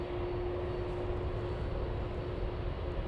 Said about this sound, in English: Intersection takeoff for Lufthansa 1708